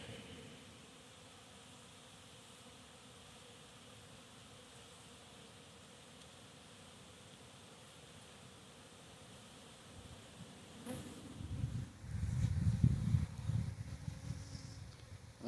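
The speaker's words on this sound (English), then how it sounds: "See a lot of them coming out doing cleansing flights, orientation flights" Honeybees buzz around a hive in midwinter as they leave on cleansing and orientation flights, a faint steady hum that swells louder and closer near the end as bees pass the microphone.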